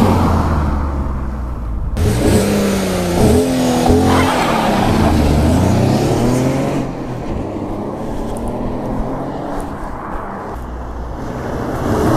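An Alfa Romeo GT 3.2 V6 engine revs and pulls past up close, pitch climbing through gear changes, then fading into a quieter rolling drone.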